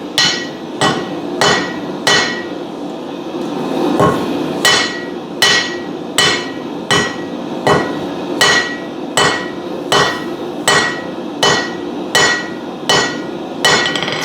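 A hammer forges metal on a new anvil with a shelf, ringing in steady, evenly spaced strikes, about fifteen sharp, loud metallic blows close by with no talking.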